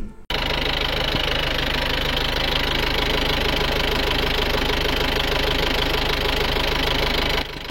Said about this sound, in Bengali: পিকআপটির সাউন্ড শোনাচ্ছি এবং ইঞ্জিনের অংশটি আপনাদেরকে দেখাচ্ছি